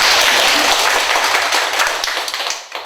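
A church congregation applauds with dense, loud, continuous clapping that thins into scattered claps near the end.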